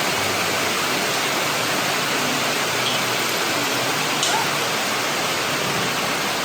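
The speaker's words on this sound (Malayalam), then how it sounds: "നല്ല മഴ." Heavy rain pours steadily in Kumarakam, Kerala, as a dense, unbroken hiss of falling water that stays even throughout with no talking.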